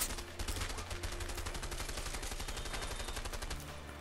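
Rapid sustained automatic gunfire in the video game A Way Out, a dense rattling stream of shots that runs steadily for several seconds before easing off, with no talk over it.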